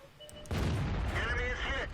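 Tank cannon firing premium gold rounds in World of Tanks, a sudden loud boom that erupts and rolls on into a sustained rumbling roar with a whining tone.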